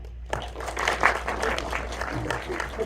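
A cinema audience at a Run Lola Run 25th anniversary Q&A claps after a brief silence, a full round of applause that swells quickly and holds steady, with a few whoops mixed in.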